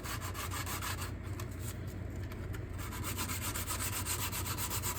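Folded 180-grit sandpaper rubs back and forth in a quick, even rhythm along the edge of a Tamiya Hotshot body during paint prep, a close, continuous scratchy sanding with no voices.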